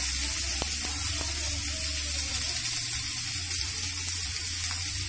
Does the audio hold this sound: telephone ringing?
no